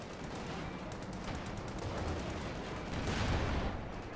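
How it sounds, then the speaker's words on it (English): Anti-tank gun fire in Company of Heroes 2 during a tank battle on a fields map, dense continuous battle noise with overlapping shots and bursts, swelling louder near the end. "And there's an AT gun."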